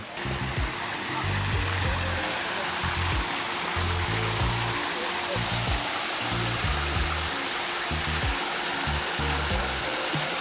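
Hot spring water flows steadily at Beppu, Japan, a loud, unbroken rush and splash that fills the whole scene at close range.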